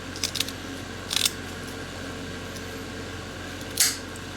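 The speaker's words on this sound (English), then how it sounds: "with the tin snips, going to get as close to the gold as we can" Tin snips cut through gold-plated fingers, giving a few sharp, brief metallic snips spaced apart over a steady background hum.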